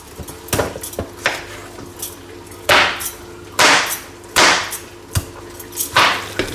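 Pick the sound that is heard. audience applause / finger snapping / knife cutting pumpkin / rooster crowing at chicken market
knife cutting pumpkin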